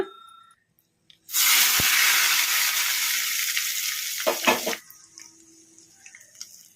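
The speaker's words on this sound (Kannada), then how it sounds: "ಸ್ಟವ್ ಆಫ್ ಮಾಡಿಕೊಂಡು ಚಟ್ನಿಗೆ ಒಗ್ಗರಣೆ ಹಾಕ್ಕೊಂಬಿಡೋಣ" Hot oil tempering with curry leaves is poured into a methi leaf and tomato chutney, and a sudden, loud sizzle bursts out. The hiss fades over several seconds, with a few clatters near the end and near-quiet afterward.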